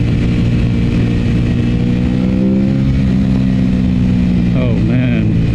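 An Aprilia RS 660 motorcycle engine fitted with a quickshifter drones loudly and steadily as it accelerates, its pitch shifting near the end as it downshifts, with talk over the engine.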